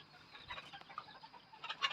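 A bantam chicken clucking softly outdoors, a few quiet, close clucks and chirps in a brief burst, faint overall with no talk.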